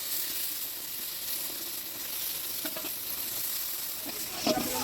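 Ginger, garlic and cumin paste frying in mustard oil for a mutton curry, giving a soft continuous sizzle with occasional stirring scrapes and a brief louder clatter toward the end; no voices.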